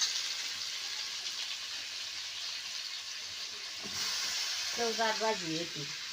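Masala-stuffed brinjal and potatoes fry in a kadhai, a steady close sizzle running throughout, with a faint voice and a brief tonal sound near the end.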